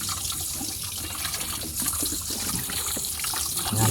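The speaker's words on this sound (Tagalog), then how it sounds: "Binabrush lang namin yung kanyang mga singit-singit para matanggal yung mga putik na dumidikit sa kanyang katawan" Mud crabs get scrubbed with a brush and rinsed under running water: a continuous splashing trickle with soft scraping and knocking mixed in, close by and fairly steady.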